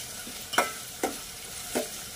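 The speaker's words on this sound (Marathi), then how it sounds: "10-12 हिरवी मिरच्या टाकलेल्या बघा. छानपैकी आता परतून घ्यायच्या मस्तपैकी." Ten to twelve green chilies sauté in a pan for chicken dum biryani, a steady close sizzle with three sharp scraping stirs of a spatula spaced about half a second apart.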